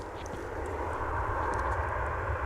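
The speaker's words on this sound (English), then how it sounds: "a flight taking off from runway 18 right" Steady broadband roar of an airliner taking off from runway 18 right at DFW International Airport, a continuous engine rumble holding level and fairly close throughout, with no voices.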